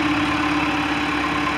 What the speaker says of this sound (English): Good running, good operation, little backhoe.